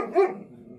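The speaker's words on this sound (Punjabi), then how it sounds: "ਆਹ ਕੁੱਤੇ ਰੱਖੇ ਆ" A single short bark from a white guard dog kept to protect sheep on a dairy farm in Italy, loud and fairly close, with no talk.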